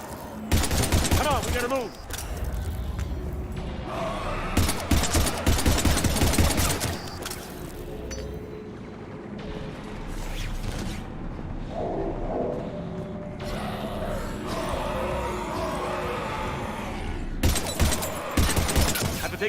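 Gunfire at husks in the video game Mass Effect 3 comes as loud bursts of rapid shots, pausing and then resuming in several volleys, with a voice speaking briefly between them.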